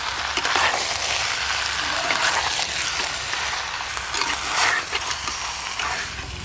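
Chopped tomatoes hit a pan already frying onion and ginger-garlic paste, giving a loud, dense sizzle that holds steady throughout with a few stirring scrapes and no talk.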